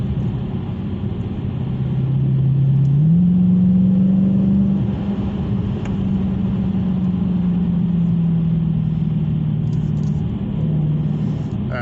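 A Dodge Challenger Scat Pack muscle car rumbles with a deep, steady engine drone, the pitch rising slightly as it revs and then holding a low throb, loud and close throughout.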